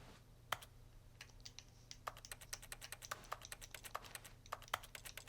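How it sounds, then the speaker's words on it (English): Rapid mashing of the A button on a game controller, heard as quick, faint plastic clicks in uneven bursts that sound like keyboard typing, with no talk. "mashing the A button sounds like a keyboard"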